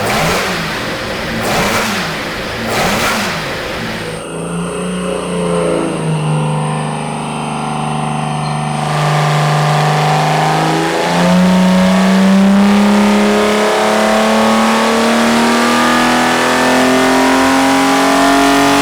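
A Chrysler 225 slant six engine on a dyno, revving in short blips before settling into a loud, sustained full-power run with pitch climbing steadily toward 5,000 RPM.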